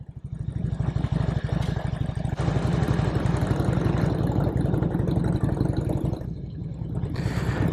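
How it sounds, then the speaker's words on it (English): Harley-Davidson motorcycles on a dirt road, their engines giving a loud, close, pulsing low throb with a steady rhythmic beat that swells and holds, with no voices. "What are we doing with Harleys back here through this dirt road?"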